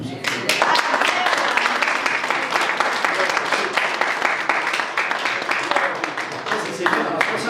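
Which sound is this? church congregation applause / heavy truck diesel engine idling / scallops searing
church congregation applause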